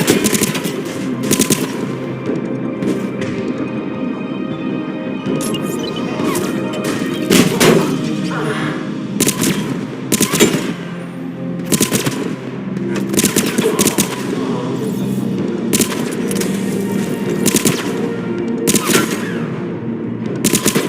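Turret gunfire in Mass Effect 3 during the retaking of Omega from Cerberus, with loud sustained bursts of rapid automatic shots broken by heavy thuds and crashes across the whole stretch.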